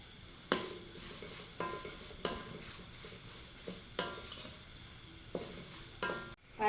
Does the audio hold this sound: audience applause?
no